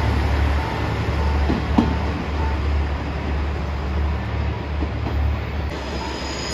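A JR Shikoku 1000 series diesel railcar at Sakawa Station, with a steady low rumble of rolling wheels and engine throughout, a brief clank near the start and no voices.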